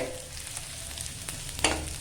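Onions fry in a pan until reddish-brown, giving a steady, close sizzle with a faint scrape of stirring and one brief brighter crackle near the end.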